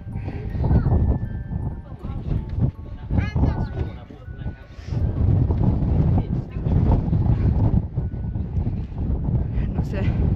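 Wind buffeting the microphone at a hilltop viewpoint at Coldstones Cut in Nidderdale, a continuous loud low rumble in gusts, with people talking over it.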